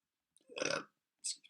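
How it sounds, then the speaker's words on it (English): A person burps a few times in quick succession, short close-up bursts with brief silence between them, heard alone indoors. "I can't stop burping."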